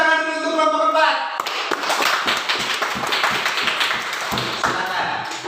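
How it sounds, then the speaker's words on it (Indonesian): Students in a classroom clap for group 4 after a brief spoken line, with rapid, uneven hand claps that continue close and fairly loud for several seconds. "Tepuk tangan dulu untuk kelompok 4."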